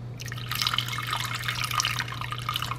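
Water poured into an oatmeal mixture in a pan, a steady trickling pour with dripping splashes running throughout at moderate close range.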